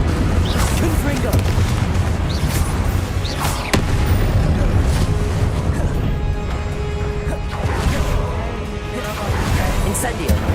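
Confringo fire spell explosions in Hogwarts Legacy, loud booming blasts and crashes striking repeatedly amid combat clatter, with someone talking over the action.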